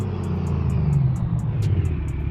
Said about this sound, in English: this truck's still manual, so I have to bang gears in this thing.